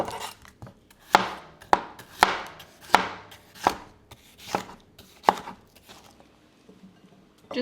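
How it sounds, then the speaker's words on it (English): A knife slices a red bell pepper on a cutting board in a steady run of about ten crisp, close chops that thin out toward the end, with no talking. "Go ahead and start slicing your red bell pepper."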